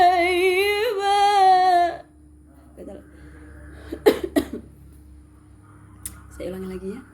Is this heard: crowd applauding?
no